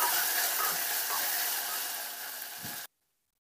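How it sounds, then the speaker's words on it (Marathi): Tomatoes sautéing in a pan for masale bhat, a steady close sizzle and hiss that holds for a few seconds and then cuts off abruptly. "ते देखील छान मऊ होईपर्यंत आपल्याला परतून घ्यायचे आहेत."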